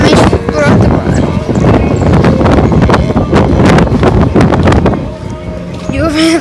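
Strong gusty wind batters the microphone with loud, continuous rumbling buffeting that swells and dips, easing briefly near the end, while a person talks underneath.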